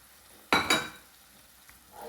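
Ivy gourd (kovakka) hits hot oil in a pan with two quick, loud sizzling bursts, and the sizzle fades to a soft, quiet hiss.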